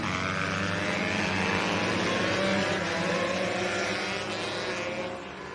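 Husqvarna and KTM motocross bikes race around the Rowrah Circuit in Cumbria, their engines blending into one continuous, fairly distant drone that wavers slightly in pitch, then eases off near the end.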